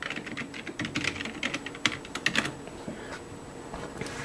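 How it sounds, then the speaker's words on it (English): Someone types a password on a computer keyboard, tapping out a quick, irregular run of close, crisp keystrokes with short pauses between clusters, and no talking. "So I'm just going to type in my password."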